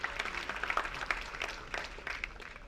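Scattered clapping from an audience at a university Republic Day celebration, light and uneven for a few seconds with no voices over it.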